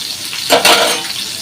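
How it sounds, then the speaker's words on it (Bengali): Fish and potatoes fry in a pan, a steady sizzling hiss with a short burst of stirring and clatter in the middle, close and fairly loud. "মাছে আলু দিই এগুলো ভাজা হচ্ছে"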